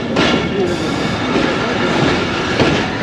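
Passenger train on the Narowal branch line between Lahore and Narowal, heard from on board as a loud, steady rumble of wheels and carriage noise with faint rail clatter.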